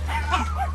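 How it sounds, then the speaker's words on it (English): Neglected puppy mill dogs crowded in a rescue room give short yips and whimpers over a steady low hum, close and brief. "We have a hot mess full of dogs in here."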